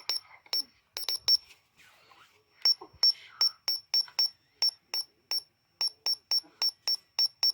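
Shrill electronic button beeps from an Oregon Scientific WRS101 radio repeat rapidly and fairly steadily, close by, while a person talks quietly underneath.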